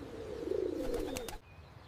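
A pigeon gives a single close, clear coo, a low throaty warble that swells and fades over about a second, with faint clicks and background noise around it.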